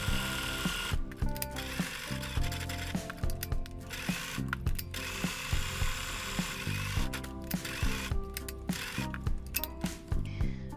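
A domestic sewing machine with a buttonhole foot stitches a buttonhole, giving a steady, close mechanical whir and rapid ticking needle rhythm with brief pauses, running alone throughout.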